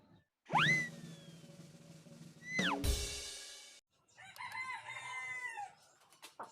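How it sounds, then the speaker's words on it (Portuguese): A rooster crows twice in close succession, loud and near, each a rising then falling call, followed by a burst of clucking and squawking from the fowl, with no talking. "O galo com certeza vai sair, né?"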